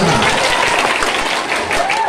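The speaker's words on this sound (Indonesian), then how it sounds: "Tepuk tangan dulu" An audience at a Maulid Nabi celebration in Kampung Jati claps together in dense, continuous applause that fills the whole stretch without pause.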